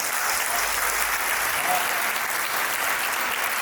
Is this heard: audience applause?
yes